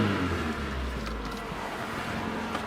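A Honda car engine idles after a head gasket replacement, giving a steady, close, low rumble that continues evenly throughout with no talking over it.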